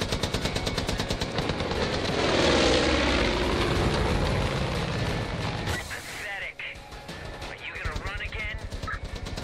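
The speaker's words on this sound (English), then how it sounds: "What is going on with my plane?" A propeller airplane engine drones loudly in the video game Far Cry 5, mixed with rapid machine-gun fire and whooshing passes, continuous and close throughout.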